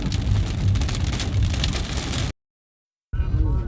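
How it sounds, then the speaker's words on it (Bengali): Heavy rain pours outdoors in a loud, dense, continuous roar of drops on surfaces, cutting out completely for under a second before resuming just as strong. "প্রচুর বৃষ্টি হচ্ছে"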